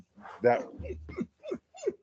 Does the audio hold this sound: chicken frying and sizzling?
no